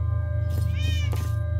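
A half-bodied cat in the Minecraft video game gives a few short, clear meows over a steady low background hum, with no talking.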